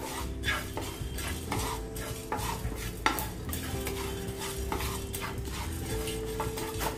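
Fennel seeds are dry-roasted in a pan and stirred continuously, giving close, rhythmic scraping and rattling against the metal over a light sizzle, with a steady low hum underneath and no speech.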